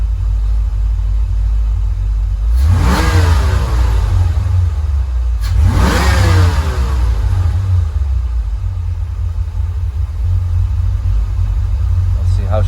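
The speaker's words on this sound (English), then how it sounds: "a couple more revs." A Fox body Ford Mustang fitted with a 1986-1988 Ford Motorsport mass air flow conversion kit revs twice from idle, each loud close rev climbing and falling back to a steady rumbling idle.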